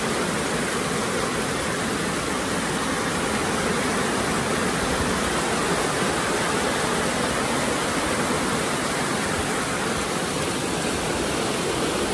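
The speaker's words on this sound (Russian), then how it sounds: "Жестко идет дождь с ветром" Heavy rain pours steadily onto a tent, a dense continuous hiss with gusty wind mixed in, loud and close throughout with no voices.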